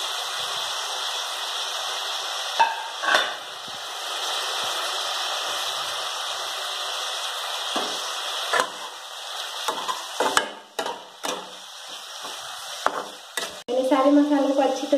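Spices being stirred into jackfruit sabji in a pan: a continuous frying hiss under scattered scraping and clinking utensil strokes that grow busier toward the end.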